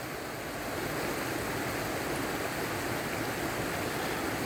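A small stream on the Ozark Highlands Trail runs full of water, giving a steady, even rushing wash that stays close and constant throughout, with no voices.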